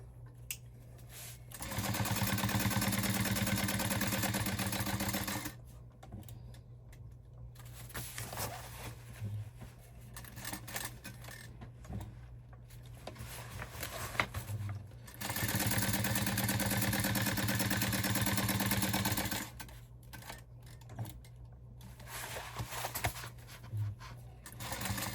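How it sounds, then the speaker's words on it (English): A sewing machine top stitches a crossbody bag, running in two sustained close bursts of fast whirring with quieter stretches of handling and light clatter between them. "I'm going to top stitch, making sure my pocket piece in the back is laying still"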